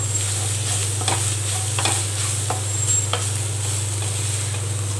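Shredded cabbage and carrot stir-fry for a veg momo filling. A spatula sweeps and scrapes the pan again and again over a gentle sizzle, above a steady low hum from the stove.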